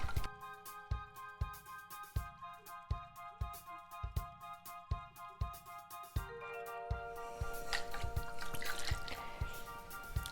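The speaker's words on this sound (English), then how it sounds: "You want to make sure that you just shake it up so all of the baking soda is dissolved." A bottle of homemade baking soda mouthwash is shaken, giving regular sloshing thumps about twice a second that turn into a faster, continuous swishing of liquid; no one speaks.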